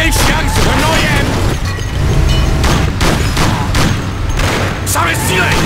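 Heavy gunfire rattles in the video game Mafia, loud sustained volleys of shots with booming impacts, while voices shout over the shooting.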